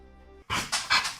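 Zoe the dog close by, breathing and snuffling in short wet bursts of panting and licking after a moment of quiet.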